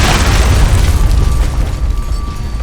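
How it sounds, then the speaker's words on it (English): Explosion in the video game Alpha Protocol, a loud deep boom that rumbles and slowly decays with a crackling tail, close and dominant. "that was a very small explosion"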